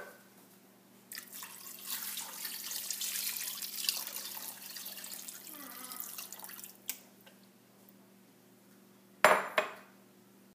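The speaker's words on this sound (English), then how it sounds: "Then pour all of your broth" Broth poured over chicken in a crockpot, a steady liquid splashing and trickling that runs for several seconds at close range, followed by a couple of sharp clinks near the end.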